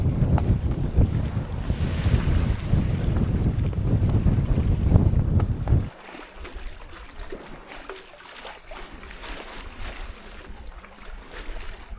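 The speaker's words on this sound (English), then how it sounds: "Sailing along this pretty shore south of San Evaristo." Sailboat moving along a shoreline south of San Evaristo in Baja, with loud wind buffeting and water rushing for the first half, then a quieter, steadier wash of wind and waves.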